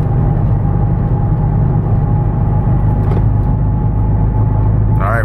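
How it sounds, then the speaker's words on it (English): Car on wide tires merging onto a freeway, heard from the cabin as a loud, steady low engine and road rumble with a faint sustained whine, holding level throughout and a brief rustle at the end. "Okay, getting on the freeway now."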